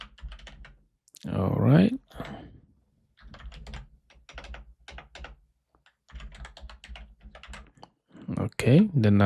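Quick bursts of clicking on a computer keyboard as an email address is typed in, separated by short pauses, close and clear, with someone speaking briefly between the bursts.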